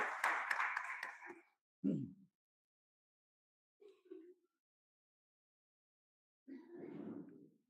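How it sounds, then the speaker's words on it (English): A brief round of audience applause at a college faculty development event, a dense patter that fades within about a second and a half. A voice follows, then silence and quieter talk. "please give them again round of applause"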